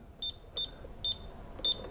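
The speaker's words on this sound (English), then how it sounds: "You'll hear it beep and it won't unlock." Four short, high electronic beeps from a safe keypad that fails to unlock under side bolt pressure, evenly spaced at close range over a quiet background.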